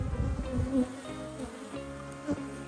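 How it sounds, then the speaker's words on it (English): Honeybees buzz in a dense, close drone around an open hive, many wings humming together with individual passes swelling and fading, and nobody speaks. "Bees all everywhere."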